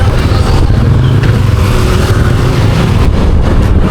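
A group of about 20 motorcycles on a road trip set off together, a loud, steady, dense engine roar close by, with no pauses and no talk.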